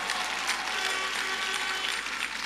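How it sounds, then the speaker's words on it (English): A church congregation claps together in a steady, dense wash of applause, sustained and fairly loud throughout with no voices standing out. "If you are clapping for Jesus, you can make it better."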